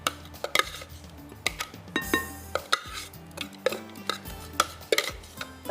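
Chandan kebab mixture being stirred and mixed in a metal bowl, with a spoon clinking and scraping against the sides in an uneven, repeated rhythm of sharp clicks, fairly close and moderately loud, without speech.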